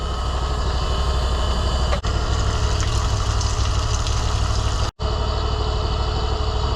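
A small electric pump draws maple sap in the woods, powered from a Cub Cadet lawn tractor's battery, giving a steady mechanical hum and drone with a low throb that continues without pause, briefly dipping twice.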